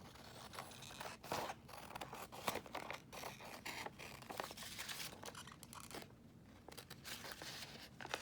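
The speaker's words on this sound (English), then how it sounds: "And then I'm just going to cut around this." Scissors cut around glued paper during paper crafting, giving a close, quiet run of repeated snips, scratches and paper rustles with no talking.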